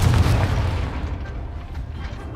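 A Confringo fire spell explodes in the Hogwarts Legacy video game, a loud deep boom at the start that rumbles on and slowly fades over a couple of seconds, with no talking.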